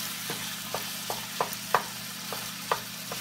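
Ground buffalo meat with onion frying at very high temperature, a steady sizzle broken by short scraping stirs in an irregular rhythm, close and moderately quiet.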